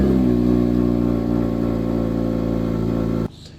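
A 2026 Hyundai Elantra N engine runs loud and steady with a rough, pulsing exhaust drone that holds for about three seconds, then cuts off abruptly.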